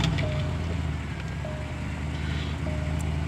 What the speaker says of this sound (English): Sounds like we have an exhaust leak, possibly.